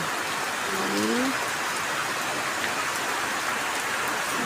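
Steady rain pouring down, a dense continuous hiss close by, with a brief faint voice-like tone early on.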